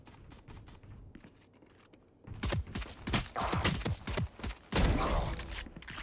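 Rapid bursts of gunfire in the tactical shooter Valorant, starting after a quieter stretch and continuing as a dense, loud stream of close shots with a second heavy burst near the end.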